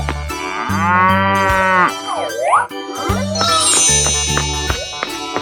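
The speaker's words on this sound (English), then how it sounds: "Cow." Cartoonish cattle moos from a 3D animal slide video game, several loud bellowing calls in quick succession with pitch swoops, backed by a jingling cowbell and a bouncy game tune.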